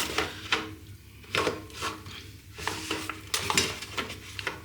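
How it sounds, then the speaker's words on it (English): A spoon stirs cheesy baked beans with barbecue sauce in a foil tray, making repeated scraping, wet swishes in a steady rhythm, close and moderately loud with no talking. "grab your spoon, give it all a good stir, because you want to mix in that extra barbecue sauce"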